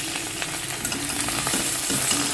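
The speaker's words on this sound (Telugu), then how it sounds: "నూనె కాగిందండి ఈ గోంగూరని మొగ్గుల్లో వేసేసుకుందాం" Gongura leaves frying in hot oil in a pan, a steady close sizzle with faint crackles and stirring scrapes running throughout, no talking.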